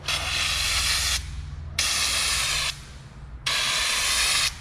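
Rust-Oleum bed liner coating sprays out in three long, loud hissing bursts, each over a second, separated by brief pauses, close to the listener with a low hum underneath.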